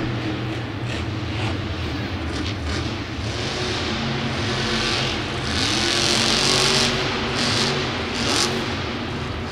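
A monster truck at a Monster Jam stadium show roars and revs loudly and continuously, with a constant dense engine rumble and crowd wash and surges toward the middle.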